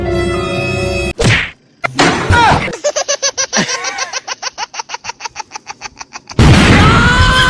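A comedy-sketch bomb explosion effect: a loud broadband blast bursts in near the end after a stretch of rhythmic, laughter-like sounds, with another loud rushing noise at the start.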